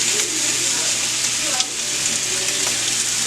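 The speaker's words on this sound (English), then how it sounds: "So now I'm adding some butter. And I'm gonna add some garlic in there." Butter and garlic sizzle in a hot pan with two steaks, a steady close frying hiss with a few faint clinks of stirring and no talking.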